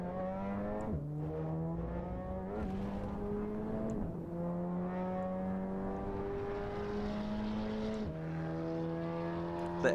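Race car engine in Assetto Corsa EVO, heard with an echo effect: a loud, steady harmonic drone that holds near one pitch, dipping briefly and slightly at each gear change around every few seconds, with no talking.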